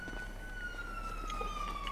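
A police car siren in the video game GTA V wails in a steady, slowly falling tone that carries throughout, with faint background noise underneath.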